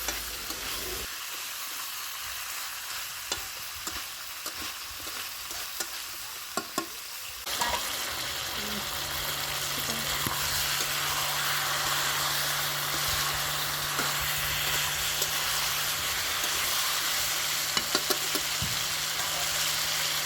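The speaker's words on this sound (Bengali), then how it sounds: "মাংসটা কিন্তু খুব ভালোভাবে কষানো হয়ে গিয়েছে" Chicken legs sautéing in a pan for curry, a continuous sizzle and crackle with occasional stirring scrapes, and a low steady hum joining in partway through, no talking.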